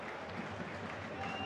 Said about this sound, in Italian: gli applausi che sentite